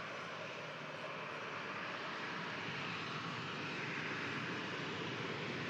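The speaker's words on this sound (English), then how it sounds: "head-on opportunity as this 737 of TUI vacates" TUI Boeing 737 airliner vacating the runway at Manchester Airport after a flight from Enfida, a faint, steady engine rumble and whine holding even throughout.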